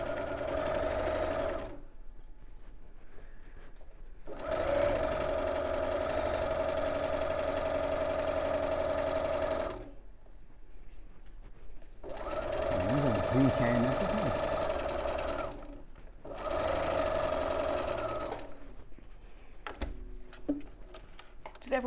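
A sewing machine stitches fabric in bursts of steady whirring hum separated by short pauses, close and fairly loud, with people chatting over parts of it.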